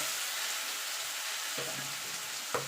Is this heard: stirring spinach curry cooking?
yes